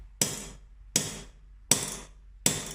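The peen of a hammer strikes metal four times at a steady, even pace, each close, bright ringing blow decaying quickly before the next.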